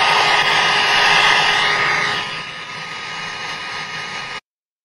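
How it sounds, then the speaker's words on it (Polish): A hair dryer sound effect played into a microphone gives a steady, close whooshing roar. It drops noticeably in level about halfway through, then cuts off abruptly, with no talking. "A jakbym na przykład odpalił teraz dźwięk suszarki"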